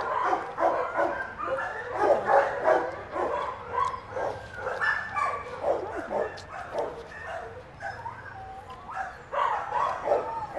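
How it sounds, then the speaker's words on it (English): A dog barks and yips repeatedly nearby, the sounds tumbling over one another with some whimpering in between, while people talk softly. "who's barking like that?"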